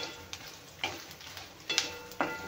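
Red chillies roasting in a pan for chutney, giving a faint steady sizzle with a few sharp stirring scrapes spaced through the moment, close by and with no voices.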